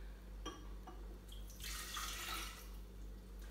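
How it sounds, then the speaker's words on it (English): Cold water poured from a jug into a kettle, a bright splashing pour that swells in the middle of the clip over a low steady hum, close and fairly quiet, with no voices. "I'm going to pour this into my kettle."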